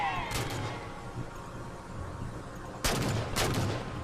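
Bursts of gunfire in Halo 4 as a grunt is shot, a short volley early on, then two sharp, loud bursts near the end over a steady game background hum.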